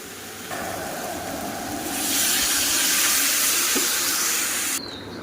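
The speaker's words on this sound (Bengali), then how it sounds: "এবার জল ঢেলে দেব, গরম জল দেব।" Hot water poured into a pan of spiced jackfruit curry frying in oil gives a loud, rushing hiss that swells midway, holds steady for a few seconds and then cuts off abruptly.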